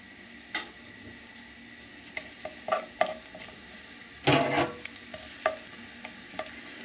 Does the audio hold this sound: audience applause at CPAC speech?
no